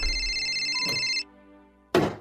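A cellphone rings with an incoming call, a steady electronic tone, then cuts off abruptly, followed by a loud clattering thud.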